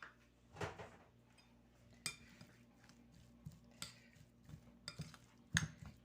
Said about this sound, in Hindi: मैं इनको मिक्स करती हूँ अच्छी तरह।